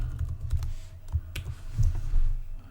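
A computer keyboard is typed on at close range to fill in a small text box for a presentation slide, a quick run of soft, irregular keystrokes and clicks with no voices.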